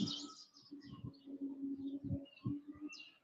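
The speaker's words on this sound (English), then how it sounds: "They done robbed these little baby birds." Small chirps come from baby birds in a robbed nest, faint and scattered, with quiet low-pitched cooing-like tones underneath.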